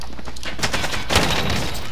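Gunfire in a Call of Duty match: loud, dense bursts of rapid shots and cracks over about two seconds, with a sharp peak near the middle, close and continuous, no talk.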